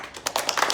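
Audience applause at a social housing townhall, a short burst of several hand claps, fairly close and without speech.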